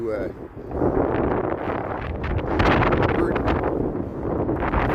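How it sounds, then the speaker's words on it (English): Steady, heavy wind between tall buildings on a Chicago street near Navy Pier buffets the microphone with a constant roaring rush that swells and fades slightly, with no break throughout. "So it's really windy right here"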